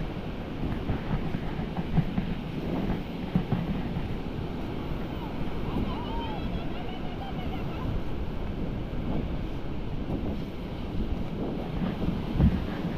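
Strong wind buffets the microphone in a steady, roaring rush for over ten seconds, loud and unbroken, with faint voices barely audible beneath it.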